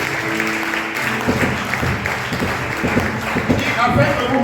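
A church congregation applauding God during a sermon, with steady, dense clapping and cheering throughout. Voices sound over the applause.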